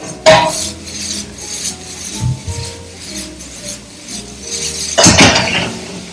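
A spoon scrapes and clanks against a pot while cooked rice is mixed with Lizano salsa, giving close metallic scraping with a few sharp knocks, including a louder clatter near the end, with no talking.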